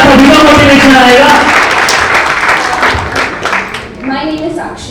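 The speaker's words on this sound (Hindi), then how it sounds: "और एक बार जोरदार तालियां तो बजा दो यार" Audience applause at a cricket auction event, a burst of clapping from a crowd, loud and close, mixed with voices and a speaking voice, fading toward the end.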